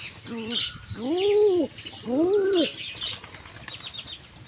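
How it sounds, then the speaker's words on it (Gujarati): A pigeon's wings flap briefly, followed by two drawn-out, throaty coos close by, with faint chirps from other birds in the background. "કબૂતર અમારો ખોળામાં બેઠું છે"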